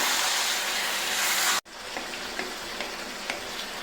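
Pepper chicken fry hissing loudly and steadily in a pan, then a sudden cut to quieter sizzling broken by a few evenly spaced scrapes and clicks as it is stirred, with no one talking.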